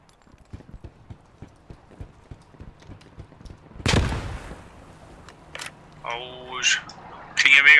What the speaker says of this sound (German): Schuss.